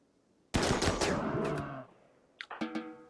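Gunfire from the colony simulation game RimWorld, a loud rapid burst of shots with a ringing tail, then a few sharper shots after a short pause.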